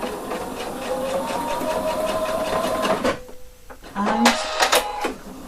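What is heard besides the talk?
sewing machine stitching a jacket corner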